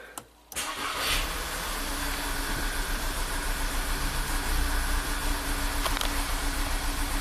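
A Volkswagen turbo GDI car engine with oil-burning and misfire troubles cranks briefly, catches, and runs on in a steady, close drone with a rough, uneven texture.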